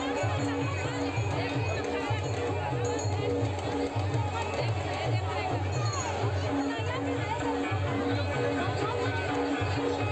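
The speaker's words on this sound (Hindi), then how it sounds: "यहाँ सुबह से भीड़ लगे हवा।" A large crowd of devotees gathers at the Bhuteshwar Mahadev temple in Baloda Bazar during Mahashivratri, a dense steady babble of many voices and shuffling footsteps, with a repeating low rhythmic thumping underneath throughout.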